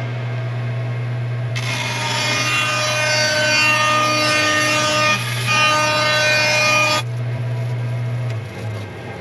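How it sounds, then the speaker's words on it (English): A bandsaw motor hums steadily while its blade cuts through a bookmatched wooden guitar piece, a loud rasping cut lasting several seconds before the blade runs free and the motor winds down. "Alright, so let's take this to the bandsaw."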